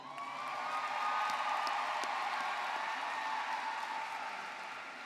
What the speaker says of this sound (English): please join me in saluting the scholastic achievement of these students by extending a round of applause